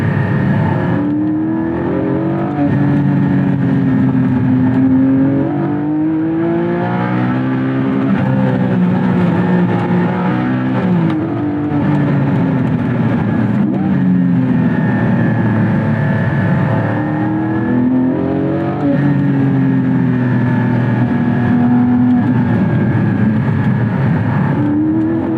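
A Porsche 718 Spyder's mid-mounted engine revs hard while driving in second gear, pitch climbing and dropping through several pulls in a loud, continuous interior drone without speech.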